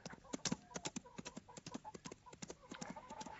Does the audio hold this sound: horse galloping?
yes